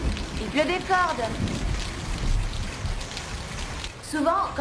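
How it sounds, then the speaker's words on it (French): Steady heavy rain hisses across the whole clip, with a voice speaking briefly at the start and again near the end. "Il pleut des cordes."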